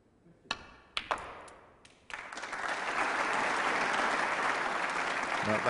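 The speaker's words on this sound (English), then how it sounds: "A round of applause for the pot" A few sharp ball clicks on a snooker table during the 2011 UK Championship, then steady, fairly loud applause from the crowd that swells and holds.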